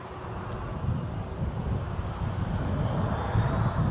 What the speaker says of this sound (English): Airbus A320 heading to Dublin.